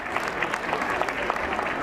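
Steady applause fills a school annual day celebration as the audience claps for a student topper, parents and teachers, a dense continuous patter of many hands at even loudness throughout.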